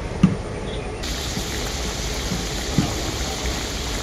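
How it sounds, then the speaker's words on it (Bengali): Tilapia fish curry gravy boiling in a pan, a steady close bubbling wash with a couple of soft knocks, no voices. "ঝোলটা খুব ভালোভাবে ফুটে গেছে।"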